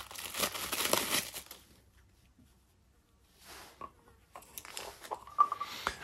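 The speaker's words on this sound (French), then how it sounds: "On va ouvrir la boîte toute neuve du nouveau." A brand-new oil filter's cardboard box is opened with short bursts of crinkling and tearing packaging, close and fairly quiet, with a pause of near silence between handling sounds.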